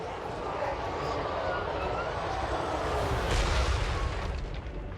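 A homing missile slams into enemy units during a video game battle, a long rumbling explosive roar that swells and holds for several seconds.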